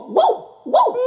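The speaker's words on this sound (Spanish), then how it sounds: "¡Eso es un perro!" Two sharp dog barks, close and loud, spaced about half a second apart.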